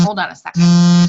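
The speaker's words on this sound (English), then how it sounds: "That's my alarm to get on the team call as I put it on snooze" Phone alarm beeps in a steady, sustained electronic tone, loud and close, right after a brief spoken interjection.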